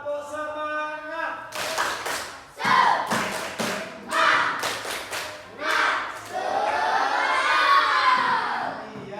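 A class of students does a rhythmic spirit clap, clustered bursts of sharp unison claps set against group chanting, ending in a long cheering shout, loud and close in the room.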